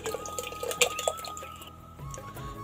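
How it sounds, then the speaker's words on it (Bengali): Raw rice goes into a pot of hot water on a gas stove, making a brief burst of close splashes and watery patter that settles into a quieter simmering wash. "এদিকে জলটা গরম হয়ে গেছে, আমি এখন চালটা দিয়ে দিব।"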